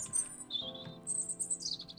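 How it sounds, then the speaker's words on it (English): Birds chirping in the trees overhead outdoors, a series of high, thin tweets and whistled calls coming in short bursts, clear and fairly close with no talking. "Overhead, the birds chirp in the trees"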